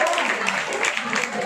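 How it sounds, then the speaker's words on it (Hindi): Applause from an audience at a student-organised Teachers' Day school programme, a steady wash of clapping over the entire moment, with a voice murmuring underneath. "अच्छा एक बार ताली और बजा दीजिए।"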